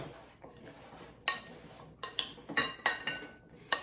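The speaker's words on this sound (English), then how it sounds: "you can mix the salad" Chickpea and cucumber salad being mixed in a bowl, with utensils clinking and scraping against the dish in a loose, irregular series of sharp taps over a soft background.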